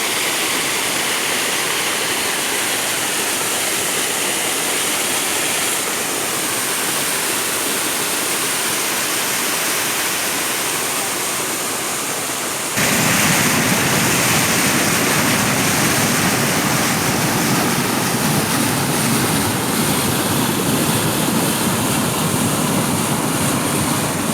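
Kaigal waterfall in Chittoor district roars as a loud, continuous rush of falling water over rocks, with the broadband wash growing even heavier partway through, and no voices.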